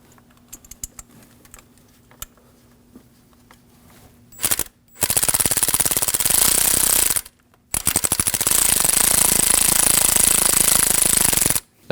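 A power tool tightens a 10 mm coil pack bolt on a 2013-2015 Subaru XV Crosstrek 2.0L flat-four, loud rapid rattling bursts in two long runs after faint clicks, close and alone.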